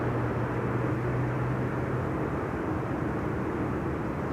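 An Embraer 190 arriving on Schiphol's Buitenveldertbaan runway gives a steady, broad jet roar at moderate distance, unchanging for a few seconds with no talk.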